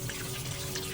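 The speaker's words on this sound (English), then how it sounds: "First step, wash the potatoes." Running tap water while washing potatoes, a steady close hiss of flowing water lasting about a second.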